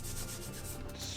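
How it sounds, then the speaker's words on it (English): Steady, continuous abrasive sanding of a wood slab whose voids are filled with hardened cyanoacrylate glue, a dense close rubbing hiss that runs without pause for just over a second. "You can sand it"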